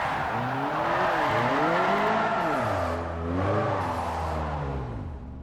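A 1995 Ford Mustang Cobra R with a 5.8-litre, 300-horsepower V8 roars in Forza 4, revving up and down through several gear changes in a loud, continuous run with no talk.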